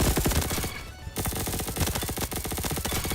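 Scorpion Evo submachine gun in the Roblox shooter Bad Business, fired in long, rapid full-auto bursts, a dense stream of close, loud shots with one brief pause near the start.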